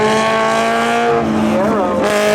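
A Fiero GT drag racing at Seekonk Speedway spectator drags, its engine droning steadily and rising in pitch near the end, loud and close under continuous crowd and announcer noise.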